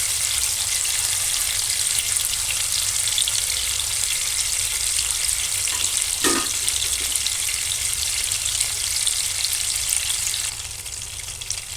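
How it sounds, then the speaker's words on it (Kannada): Fish fries in a pan for a restaurant-style fish curry, making a loud, steady, close sizzle throughout, with one brief clink partway through. "ಸಣ್ಣಗೆ 5 ನಿಮಿಷ ಫ್ರೈ ಮಾಡಿದ್ರೆ ಸಾಕಿದೆ."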